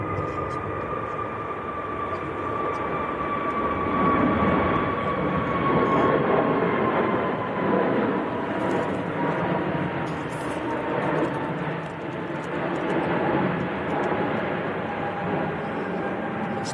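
An Airbus A320neo making a go-around at Manchester Airport in strong, gusty wind, its engines a steady, fairly loud roar with a whining tone that holds throughout and swells slightly mid-way, wind noise mixed in.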